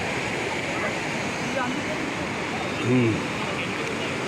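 River water roars steadily and loudly into a hydroelectric dam intake as a constant broad wash of sound, with a brief faint voice partway through.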